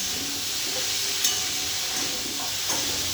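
Cauliflower curry fries in a pan, singara style, a soft steady sizzle with occasional stirring clinks and scrapes, fairly quiet and without speech.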